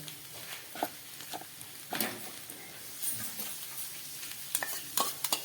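Fried food for a tiffin snack sizzles in a pan, seasoned with a half spoon of Maggi masala, while a utensil stirs and scrapes with irregular clacks over the steady crackle.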